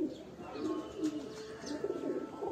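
Pigeons coo softly in a soft, low, rolling murmur, with a few faint chirps over a quiet background.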